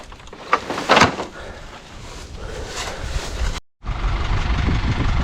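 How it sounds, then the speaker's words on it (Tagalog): A boat engine runs again after its fuel filter was replaced, giving a loud, steady rumble with a few knocks near the start and a brief cut in the sound partway through. "pinalitan na po ni Paulo ng ano, fuel filter. Andar na ulit"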